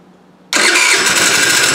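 A 2013 TaoTao scooter engine cranks and catches after a brief quiet moment, then settles into a loud, steady idle close by.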